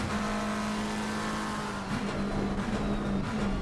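Race car engine of the number 113 McLaren in an Indianapolis sim-racing league race, a loud steady high-pitched drone with brief gear shifts near the middle and end, no talking.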